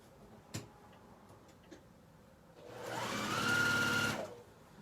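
Juki sewing machine stitching, a few faint ticks followed by a short close burst of rapid mechanical whirring lasting about a second and a half.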